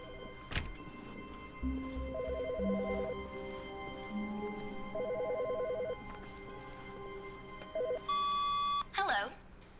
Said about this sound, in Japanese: 待って、電話鳴ってる。